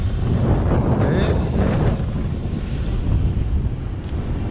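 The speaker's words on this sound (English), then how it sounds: "Extremely windy, guys." Strong wind blasts across a sandy beach, a loud, heavy rumbling roar buffeting the microphone continuously, with surf in the background.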